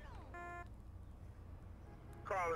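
In GTA San Andreas, an in-game mobile phone rings with a short electronic ringtone burst, quiet and tonal, followed by a pause and a brighter trilling chirp at the end.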